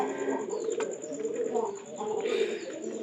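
Pigeons kept in pairs coo steadily and close by, a low throaty murmur running throughout with a faint steady whine above it.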